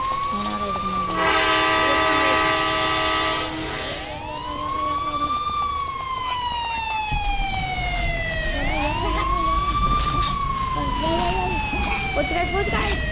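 A train pulls away with loud rumbling while a long, sustained horn blares and bends in pitch, close and dominant throughout.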